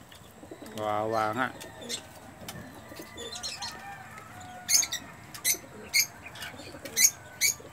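Pigeons that have returned to their home loft coo softly and flutter, with several brief wing-flap bursts in the second half; someone speaks briefly near the start over quiet background noise.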